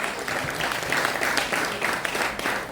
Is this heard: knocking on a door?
no